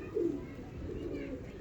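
A pigeon coos softly and steadily, a low murmuring call held close by and with no talking over it.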